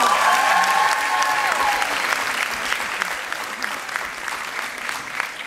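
Warm audience applause in a hall in Israel, a sustained wash of many clapping hands with a brief tone at the start, steady then slowly easing.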